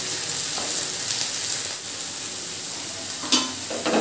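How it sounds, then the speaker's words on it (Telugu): Beans and egg frying in a pan give a steady, close sizzle throughout, with a brief louder crackle near the end; no voices. "మళ్ళీ ఓపెన్ చేసి ఇంకోసారి ఫ్రై చేసుకుంటాను"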